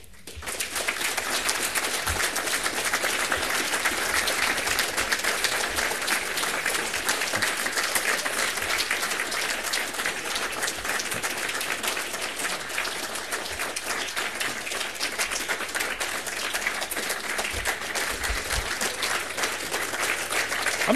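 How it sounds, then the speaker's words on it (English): A large audience at a conference talk applauds for a sustained stretch, dense clapping holding steady and loud from start to finish without voices over it. "I do thank you for the applause"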